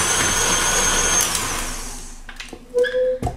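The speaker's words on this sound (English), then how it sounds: "when you mix, make sure that you mix on a medium speed" An electric mixer whirs steadily through carrot walnut cake batter at medium speed, then winds down and stops, followed by a few light knocks and clinks.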